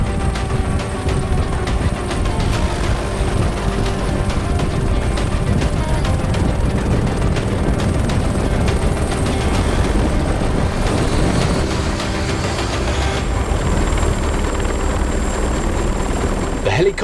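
A helicopter sets down and idles on the ground, its rotor a loud, steady, close-up roar with rapid chopping that runs unbroken throughout.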